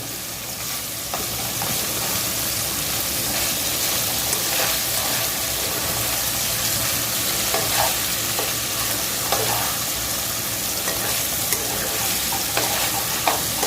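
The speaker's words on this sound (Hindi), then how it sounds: "एक मिनट 2 मिनट अंदर फ्राई कर लेंगे।" Chopped mustard greens for sarson ka saag sizzle steadily in a hot pan, a loud continuous frying hiss with occasional stirring scrapes, close up and without talk.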